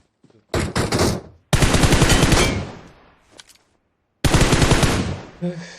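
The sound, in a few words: gunfire in the video game PUBG Mobile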